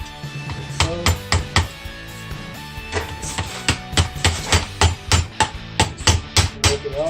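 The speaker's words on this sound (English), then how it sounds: "we're using a flat screwdriver or punch to separate the ball joint from the knuckle." A punch is hammered to drive a ball joint out of the steering knuckle on a Volvo XC70, giving a run of sharp metallic strikes, a few at first and then a steady rapid series of close, loud taps.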